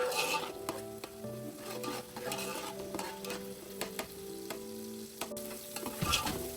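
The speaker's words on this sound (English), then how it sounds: "I've added 1 tablespoon of ginger garlic paste and cooked that for a minute to remove the raw" Ginger garlic paste sizzles as it fries in a pot, with repeated scraping stirs and clinks of a utensil against the metal, close and fairly quiet, no talking.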